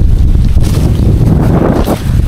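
Steady strong wind blowing outdoors near water, buffeting the microphone with a loud, continuous low rumble and gusty rush for the whole stretch, no voices.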